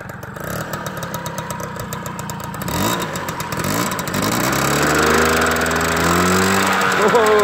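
The engine of an MBK Mag Max moped idles a little low, a steady putter that grows louder and more rhythmic after a few seconds, recorded up close.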